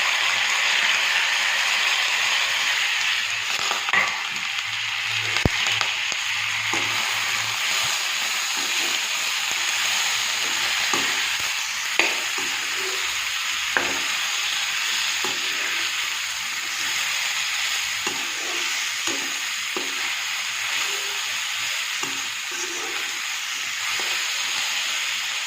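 Pork with chopped tomatoes and potatoes fries in a pan, a steady broad sizzling hiss with occasional soft pops and utensil taps, continuing throughout at close range.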